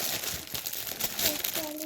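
A crumpled sheet of paper crinkles and rustles close by as it is unfolded, with a continuous crackling texture and a soft voice speaking briefly near the end.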